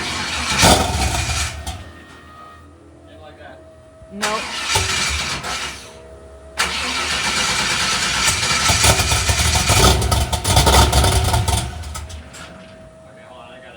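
A Firebird with a tick-cammed LM4 V8 swapped in cranks and fires up, stumbles and dies, then catches again and runs loud and rough with revs. People talk briefly between attempts.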